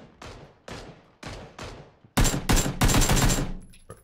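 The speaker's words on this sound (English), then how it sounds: "You're gonna have to lay down suppressing fire." Gunfire in PUBG, a multiplayer battle royale shooter: several separate bursts of shots early on, then louder, denser sustained firing near the end, with no talking.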